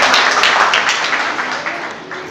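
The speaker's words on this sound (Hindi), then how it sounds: "जोरदार तालियों से स्वागत कीजिए" Audience at a press award ceremony breaks into applause, a bright wash of many hands clapping that gradually thins and fades.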